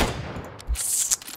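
A sniper rifle fires in PlayerUnknown's Battlegrounds, with one sharp crack standing out among several closely spaced, moderately loud shots.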